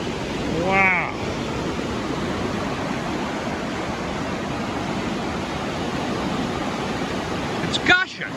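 A flooded Maine river in August gushes in a steady, broadband roar of rushing water, continuous and fairly close, with a couple of brief voices breaking in at the start and end.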